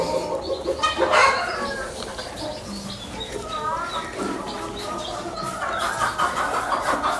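A flock of young chicks and chickens chirping and clucking continuously in a brooder, busy overlapping calls close by with some talk underneath.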